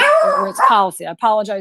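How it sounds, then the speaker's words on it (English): A pet dog barks and howls close by in a drawn-out, wavering cry, loud enough to overlap a person speaking at the same moment. "that's my dog. You might have just heard us."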